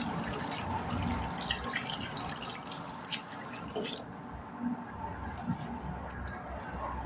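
A pet's paw being washed with soapy hands and water, soft wet squishing and scattered drips and clicks, quiet and close, with no talking.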